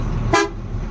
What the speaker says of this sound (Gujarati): રામદેવ બોલ હોરન મારો નથી આવું તો